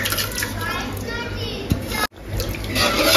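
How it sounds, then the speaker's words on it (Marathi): Water pours into a cooking pot set on a gas stove with washed barnyard millet for a large batch of kheer, making a continuous splashing rush while someone talks. "अजून मी थोडा पाणी ऍड करणार आहे।"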